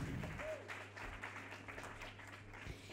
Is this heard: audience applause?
yes